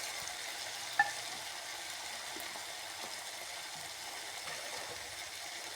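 Chopped tomatoes with turmeric, coriander and chili powder fry in a pan for a Kerala-style fish curry, giving a quiet, steady sizzle throughout with a faint clack near the start.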